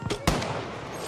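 A single sharp grenade blast bursts out in Battlefield V, one loud broadband crack over a busy battlefield din, followed by a brief rumbling tail.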